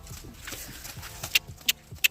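Horse galloping on a stable yard, hooves drumming in a quick, regular rhythm at moderate distance, with a few sharp clicks near the end and no talking.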